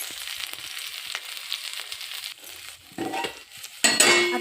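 Tomato thecha is stirred and mixed in a pan with oil, salt and cumin over low heat: a spoon scrapes and clinks against the pan amid soft sizzling, growing louder and busier toward the end, with no talking.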